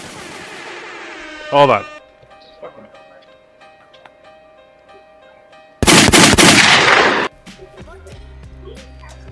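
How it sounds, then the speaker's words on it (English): Sound-effect gunshots play during a casual beer-drinking podcast: a sharp burst near the start, then a loud sustained barrage of rapid fire mid-clip, with faint talk and low hum around them. "You gotta have real gunshots."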